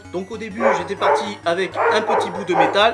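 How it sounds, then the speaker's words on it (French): A pet dog barks in a few quick bursts, close and fairly loud, while someone talks over it. "Ça c'est mon chien."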